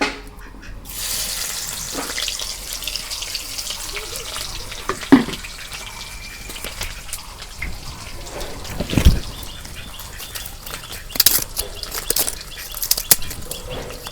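Chopped onions sizzle and spit in hot mustard oil, a steady close hiss with scattered pops and a few louder clatters from the pan.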